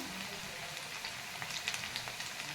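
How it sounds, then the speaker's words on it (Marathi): Colocasia leaf rolls (aluvadi) frying in hot oil, about five or six at a time, make a soft, continuous bubbling sizzle with faint scattered crackles, fairly quiet and close. "पाच ते 6 वडी आपण तळून घ्यायच्या एका वेळेस"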